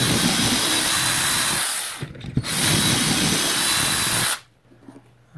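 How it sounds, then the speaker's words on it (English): A power drill bores dowel holes into wooden rails guided by a self-centering dowel jig, a loud continuous whirring run that dips briefly midway, then resumes before stopping abruptly into near silence. "I'm going to offset these rails so that I won't drill into the same holes again this time"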